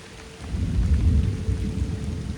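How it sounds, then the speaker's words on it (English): Thunder during a rainstorm on a flooded stretch of the Appalachian Trail, a low rolling rumble swelling and fading over steady rain, fairly distant, with no voices. "sometimes the thunder is like really loud"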